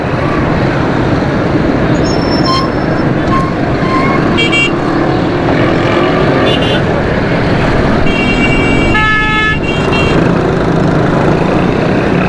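Busy road traffic on a Karachi street between Nazimabad and Orangi Town: a constant dense roar of passing vehicles and engines, with several car and bus horns tooting at intervals, loud and close throughout.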